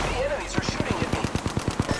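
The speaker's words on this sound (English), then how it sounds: "enemies are shooting at me" Rapid automatic gunfire from enemies in the video game Apex Legends, about a dozen evenly spaced shots rattling off in a steady burst over a faint background hum.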